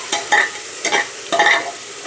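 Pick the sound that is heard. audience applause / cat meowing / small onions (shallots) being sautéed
small onions (shallots) being sautéed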